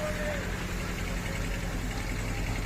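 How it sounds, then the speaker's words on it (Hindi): A 2008 Toyota Hiace van's engine idles steadily with a low, even rumble, heard close up for a few seconds without pause. "गाड़ी में ये इंजन की आवाज़ है"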